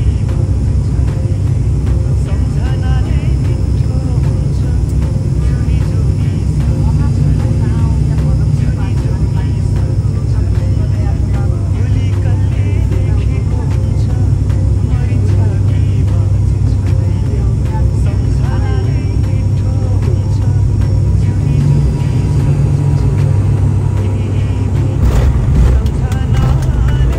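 A Yeti Airlines passenger aircraft landing at Chandragadi, Jhapa, on a domestic flight in Nepal, heard from inside the cabin as a loud, steady, broadband engine roar that continues throughout without pause.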